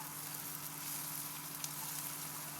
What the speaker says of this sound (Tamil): போட்டு நல்லா இப்போ இதை வதக்கிக்கலாம்